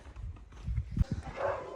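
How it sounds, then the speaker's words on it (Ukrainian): Dogs react with a couple of short, close barks or woofs, loudest around the middle, amid rustling and background noise. "Собаки в шоці від такого нововведення."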